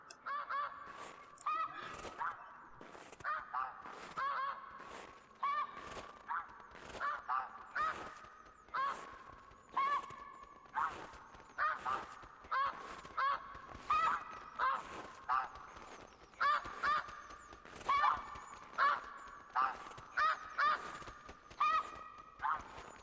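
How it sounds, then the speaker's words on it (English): Geese heard outdoors while hiking in snowy bear country, giving a long series of loud, repeated honks in irregular bursts across the whole stretch, some overlapping, with faint rustling underneath. "looks like we got a few geese there"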